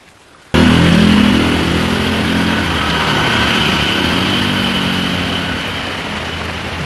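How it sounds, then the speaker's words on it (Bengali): Motorbikes race past in heavy rain on the road near Parasnath Hills, Jharkhand, their engines starting abruptly loud and close as a sustained buzzing roar that slowly fades with rain hiss underneath. "বাইকগুলো আমাদের দেখিয়ে দেখিয়ে জোরে জোরে চলে যাচ্ছে"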